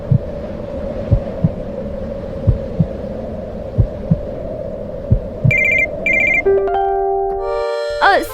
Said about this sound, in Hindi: समीर फोन